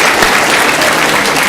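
Audience applause, dense and loud, with a steady wash of many hands clapping at once and no break across the moment.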